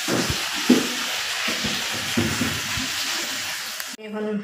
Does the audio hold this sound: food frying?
yes